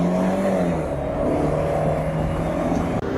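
A sports car at a Miami drive event, its engine droning steadily and fairly loud from inside the cabin with a low rising tone, no talk.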